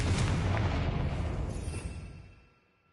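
A Confringo fire spell exploding in the video game Hogwarts Legacy, one loud close blast that rumbles and fades away over about two seconds, alone.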